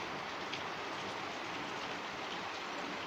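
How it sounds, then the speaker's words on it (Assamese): Heavy rain pouring outdoors during monsoon lockdown days in Assam, a steady, dense hiss of drops with no pauses, heard alone without talk at a moderate level. "বাহিৰত বহুত বৰষুণ দি আছে জোৰে আপোনালোকে চাগে শব্দ শুনিছেয়ে"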